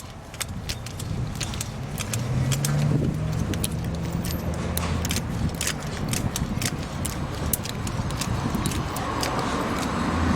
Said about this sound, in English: Keep pumping it, and we'll see grease come out.